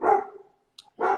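A dog gives two sharp, close barks separated by a short pause, with a faint yip between them.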